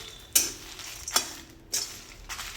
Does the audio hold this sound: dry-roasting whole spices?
yes